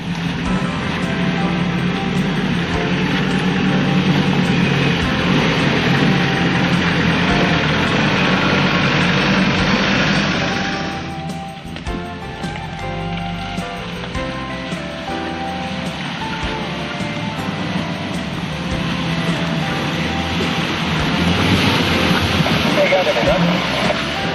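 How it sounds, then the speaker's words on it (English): A diesel 4WD engine works steadily as it climbs a steep section of Fulton Creek Road, a continuous loud drone that dips briefly midway, with broadband noise throughout. "This is a particularly steep section of Fulton Creek Road, and the diesel isn't having much trouble getting up here at all."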